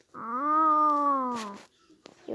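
A person's voice imitates a cat's meow: one drawn-out, nasal, wavering mew that swells and fades, followed by brief soft breathy noises.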